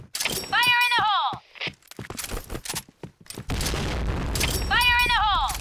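A grenade explodes in the video game Point Blank, a sharp boom with crackling debris among bursts of gunfire, while electronic announcer callouts play at the start and end.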